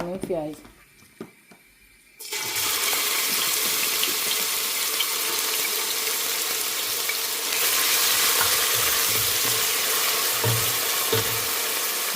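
Onions sizzle loudly as they are dropped into hot oil for a Bengali shutki and mrigal fish dish with taro, a sudden broadband hiss that starts after a quiet moment and holds steady, growing a little louder midway.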